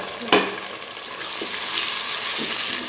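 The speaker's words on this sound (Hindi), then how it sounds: "लहसुन पक चुके हैं, इसमें मैं अब कटी हुई सब्ज़ मिर्ची और टमाटर डाल देती हूँ" Chopped green chilies and tomato sizzle in a pan after frying garlic, with a sharp scrape of stirring near the start and a steady close hiss that swells slightly toward the end.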